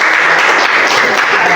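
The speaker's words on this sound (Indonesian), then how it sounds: "beri tepuk tangan dulu dong untuk" Loud, close applause from a student audience at an Islamic preaching session, a thick continuous wash of clapping that holds steady for the whole short stretch with no talk over it.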